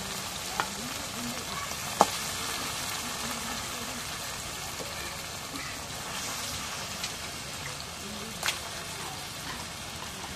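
Beef going into a karahi of red-fried spices gives a faint, steady sizzle with a few sharp clicks and clatters, while a voice talks quietly underneath.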